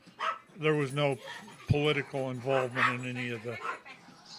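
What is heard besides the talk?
dogs barking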